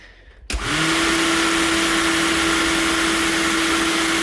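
An AL-KO GT 4030 36 V cordless string trimmer switches on after a brief quiet moment and spins up fast into a loud, steady high-pitched whine that holds constant to the end, with no talk.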